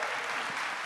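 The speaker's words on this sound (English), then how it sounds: "Give him a round of applause." Brief steady wash of audience applause for a realtor who just sold a house, an even, dense patter of many hands with no breaks, fairly quiet.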